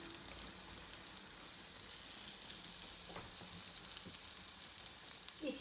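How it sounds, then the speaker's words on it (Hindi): Small golgappa puris frying in hot ghee as it is spooned over them: a steady, faint crackling sizzle with scattered pops, close by and uninterrupted. "जो पूड़ी डालें उसके ऊपर गरम गरम घी डालना शुरू कर दें ताकि वो अच्छे से फूल जाए"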